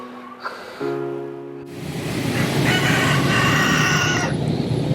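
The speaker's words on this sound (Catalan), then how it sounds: "Està aquí la gallina, el gall." Hen and rooster in Indonesia crowing and clucking close by, with a steady, long crow held alone at first before broader outdoor noise swells up behind it.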